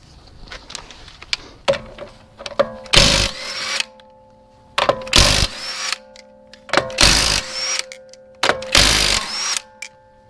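Power tool removing the wheels of a Hyundai Veloster during a rear brake job: four loud, close bursts of impact-gun hammering, each a second or so long, with a quieter ratcheting whir and pauses between them.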